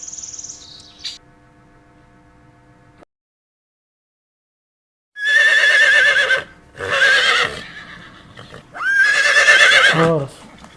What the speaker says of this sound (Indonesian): Horse, kuda.